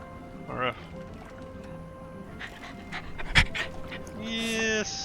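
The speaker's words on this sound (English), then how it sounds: "You know, you are the worst guard dog." A guard dog panting in the video game Blood on the Thames, quick breathy pants close up with a brief whimper, over quiet game ambience and a voice talking.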